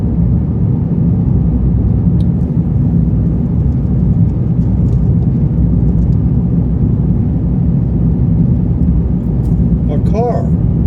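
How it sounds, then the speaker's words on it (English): Loud, steady low rumble of a car on the road through New Mexico, heard from inside the vehicle as continuous broadband road and engine noise, with a faint voice near the end. "A car."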